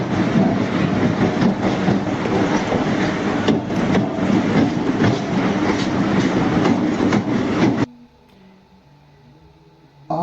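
A train runs steadily on rails with loud continuous rumble and clickety-clack for about eight seconds, then cuts abruptly to quiet low background.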